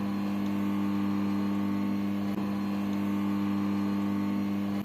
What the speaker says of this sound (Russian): Слушаем, видите, машинка издает сейчас такой звук.